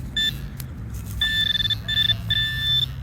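A metal detector searching the grounds of an 1860s plantation home beeps over a buried coin: one short tone, then three longer sustained electronic beeps in steady succession, clear and close over low outdoor rumble.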